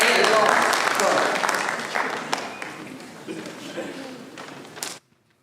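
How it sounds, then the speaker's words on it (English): Audience at a Sunday morning class applauds a drama group, steady crowd clapping that gradually thins over about five seconds before stopping abruptly. "a hand of applause"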